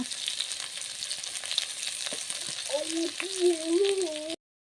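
Ginger garlic paste sizzles steadily in hot oil, a dense close frying crackle. Near the end a wavering tonal sound rises over it before everything cuts to silence.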